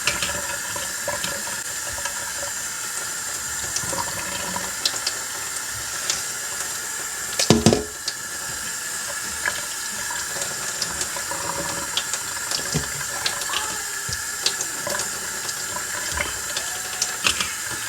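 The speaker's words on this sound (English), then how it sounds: "I really don't want all the water to drain from the fish as I rinse" Tap water runs steadily over raw fish being rinsed at a kitchen sink while preparing Jamaican escovitch fish, a continuous close hiss with a brief louder splash midway and no talking.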